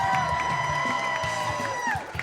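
A crowd at a Splatoon esports tournament cheers and whoops loudly, with music and electronic tones playing over the noise and a voice briefly mixed in.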